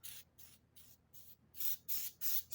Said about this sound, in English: spray the back of your piece